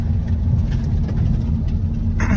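A 2016–2020 Audi A4 with a 2.0 TDI BS6 diesel engine pulls at about 80% throttle with a steady, droning low-frequency engine rumble from inside the car, loud and continuous, with no talk over it.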